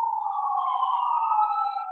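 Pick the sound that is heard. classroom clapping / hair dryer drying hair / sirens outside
sirens outside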